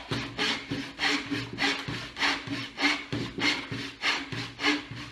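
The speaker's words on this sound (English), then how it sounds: "I'm just going to go down to where the backbone of the saw" Hand saw cutting a wooden joint with steady back-and-forth rasping strokes, about ten evenly paced rhythmic pushes heard up close.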